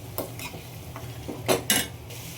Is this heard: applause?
no